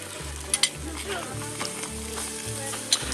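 Chicken wings stirred one at a time through buffalo sauce, with a soft wet sizzling, slapping texture and a few sharp clinks near the start and end, under low steady background noise.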